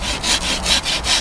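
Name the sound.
rasp rounding off the wooden edges of a bow handle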